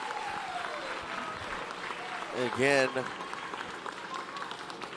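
Crowd applause at a tennis semifinal on a championship court, a steady wash of clapping running under a commentator's voice, with a brief louder cheer in the middle.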